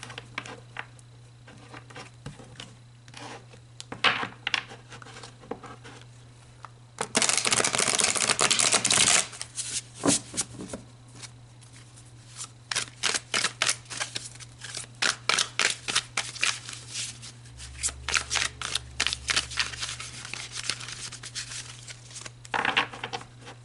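Tarot cards being shuffled and pulled, with repeated crisp riffles and flicks in bursts, one long dense shuffle in the middle, under a steady low hum.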